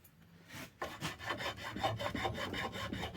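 A four-in-hand rasp filing a hewing axe head during restoration, with repeated rhythmic rasping strokes, close and fairly loud after a quiet start.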